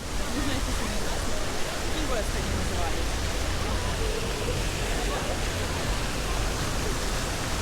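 Steady, broad rush of splashing water from the Trafalgar Square fountains in London, constant and fairly loud throughout, with faint voices buried underneath.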